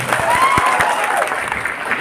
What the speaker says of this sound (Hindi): संचालक महोदय के लिए जोरदार तालियां बजा दीजिए।